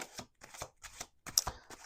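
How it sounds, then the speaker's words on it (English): Tarot cards being shuffled in quick bursts, several riffling passes with brief pauses between them, close and moderately loud. "It's 2 more shuffles."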